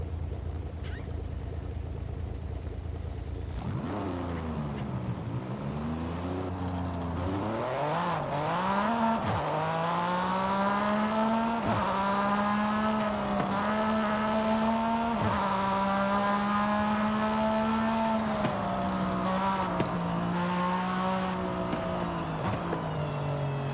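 Tuned sports car engine idling in Forza Horizon 5, a steady rumbling idle that blips and climbs in pitch a few times before settling into a loud, even drone.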